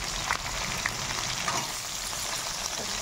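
Onion, green chili and capsicum frying in a pan with whole spices, giving a soft, even sizzle and hiss with faint stirring taps throughout.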